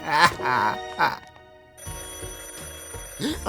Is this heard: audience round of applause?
no